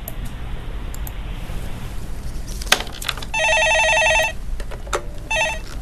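A telephone rings for a call-in caller on a stock market call-in show, with two electronic ring bursts, one long and one short, following a few clicks over a steady background hiss.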